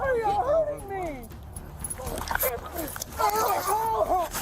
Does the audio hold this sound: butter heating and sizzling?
no